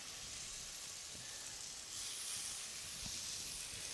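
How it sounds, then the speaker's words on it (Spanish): Beef searing in a very hot oiled pan, a steady loud sizzle and hiss throughout with small pops and crackles, heard on its own without talk. "Le vamos a agregar un poquito de aceite y vamos a poner nuestra carne a sellar o a dorar."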